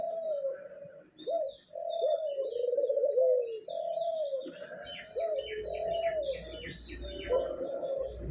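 Two male doves coo in low, repeated phrases close by, with faint chirps from other birds behind them and a soft rumble in the second half.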